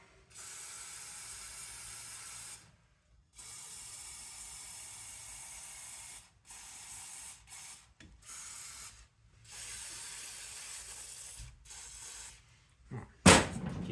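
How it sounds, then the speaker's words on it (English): Penetrating fluid sprayed onto the clutch hydraulic fittings of a Series Land Rover, several hissing aerosol bursts of varying length with short gaps, close, ending in a louder clatter. "Penetrating fluid."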